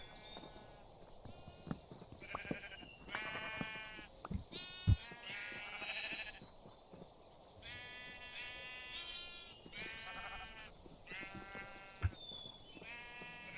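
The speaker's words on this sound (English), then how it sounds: "And now let's use this to feed the sheep." Sheep in the video game Minecraft bleat over and over. The short, nasal calls overlap and come in quick succession at a moderate level, with faint thuds and clatter in the background and no speech.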